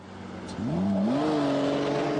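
A car engine revs up and accelerates away, the pitch rising steadily into a loud, sustained roar, in Grand Theft Auto IV.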